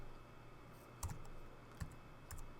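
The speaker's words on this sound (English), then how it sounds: "I'll click here and I'll type my name" A computer keyboard clicks as a name is typed, a few soft scattered keystrokes over a faint steady hum, quiet and close.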